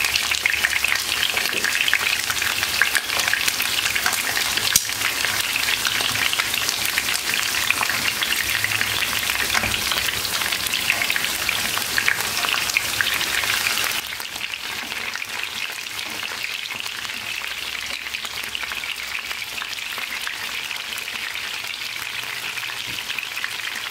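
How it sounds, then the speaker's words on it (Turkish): Eggplant and potato pieces frying in hot oil, a steady dense sizzle and crackle running throughout at moderate level, dropping slightly softer partway through, with no talking. "Patlıcanları patatesleri çevire çevire kızarttım."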